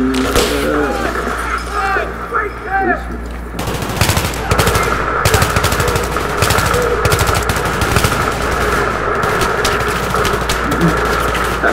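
Bursts of rapid automatic gunfire fill a Battlefield 3 match, loud and sustained in dense clattering volleys after a quieter opening, with a vehicle engine rumbling underneath.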